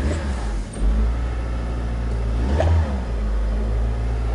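A Mitsubishi car engine with a cylinder 3 misfire revs at mid pitch. It has a steady rough drone, swells around one second and again near 2.6 seconds, and the RPM does not drop back. No talking.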